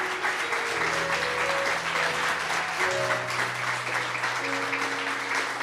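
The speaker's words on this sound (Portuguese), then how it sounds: "Palmas para o Senhor Jesus." A church congregation claps steadily and loudly in thick, sustained applause that holds at the same level throughout, while sustained keyboard chords sound beneath it.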